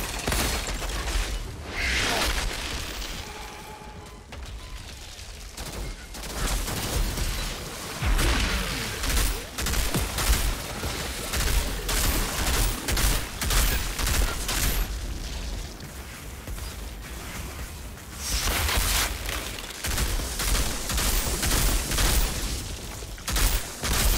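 Mortar rounds explode in the Outriders video game amid sustained gunfire, with repeated heavy booms and bursts over a dense, loud battle din and no talking.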